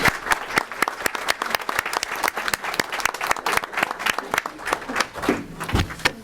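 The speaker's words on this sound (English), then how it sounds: "there's a lot of clapping" A board of trustees meeting audience claps after a unanimous vote, with dense, distinct handclaps from a modest crowd sounding close and lively, continuing steadily with a slight thinning toward the end.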